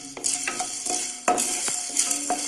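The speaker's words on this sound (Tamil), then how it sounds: "இதையும் நம்ம சிம்லியே வச்சு ட்ரை ரோஸ்ட் பண்ணிக்கலாம்." Black peppercorns are dry roasted in a pan, with a spoon scraping and stirring in quick repeated strokes and a light rattle of peppercorns, close and steady, with no talking.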